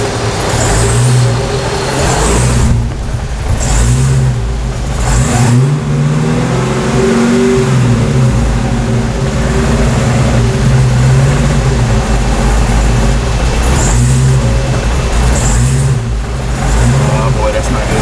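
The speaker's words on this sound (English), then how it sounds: "see how it's like bouncing up and down and it's not idling well?" A supercharger-deleted, naturally aspirated Dodge Challenger Hellcat engine runs rough and uneven, its revs surging up and down instead of settling into a steady idle, with voices talking over it.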